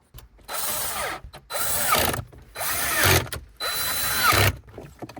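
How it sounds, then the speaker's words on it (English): Power driver screwing in mounting screws for an Android head unit in a Jeep Renegade dash, four close, loud whirring bursts of about a second each separated by short pauses, with no talk. "let me go ahead and put them and screw them"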